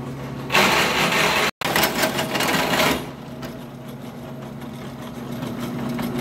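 A loud, whining power drill with a hole saw cuts through metal, grinding hard for a couple of seconds, briefly stops, resumes, then drops to a quieter steady hum.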